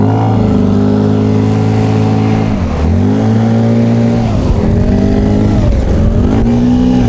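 A Tohatsu 9.8 outboard motor drives a Flagman 330U boat, a loud steady close-up drone whose pitch dips briefly twice as the throttle eases off and then climbs back.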